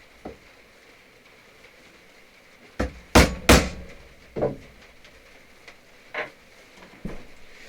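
Rivets being hammered into leather: a run of sharp, loud strikes clustered near the middle, three hard blows close together, followed by a few lighter, spaced taps in a quiet room.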